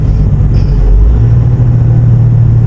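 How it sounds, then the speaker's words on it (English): Heavy trucks rolling along the Hume Highway during a flood detour, a steady loud low rumble of engines and tires that never lets up, with no talking. "Massive amount of trucks."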